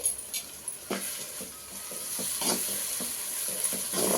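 Ginger garlic paste fries in a pan for a village-style prawn curry, a continuous close sizzle punctuated by soft spatula stirs and scrapes, with no talking.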